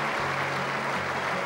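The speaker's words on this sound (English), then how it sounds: "warm applause" Warm applause from a Wimbledon crowd fills the whole moment, a steady dense wash of clapping heard close and loud without pause.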